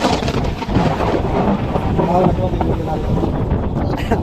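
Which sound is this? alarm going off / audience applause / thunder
thunder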